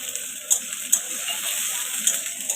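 Green chillies frying in hot oil for a paneer dish, a bright continuous sizzle with crackling pops at a few moments, close and fairly loud, with no talking over it.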